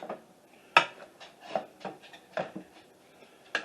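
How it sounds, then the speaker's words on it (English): A utensil stirs canned vegetables and meat for shepherd's pie filling in a pot, making roughly eight distinct scraping, clattering strokes at an uneven pace, close and fairly quiet. "Mix these up a bit"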